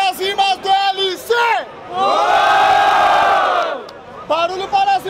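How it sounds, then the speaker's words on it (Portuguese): A rap battle crowd in Barueri, São Paulo, breaks into a long, loud roar of cheering and shouting, with a host's amplified calls before and after it. "Barulho para as rimas do LC"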